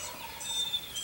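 Distant wild turkey gobbler gobbling at dawn in Kansas, roosted over a creek, heard as faint, brief rattling calls over quiet morning ambience with other birds.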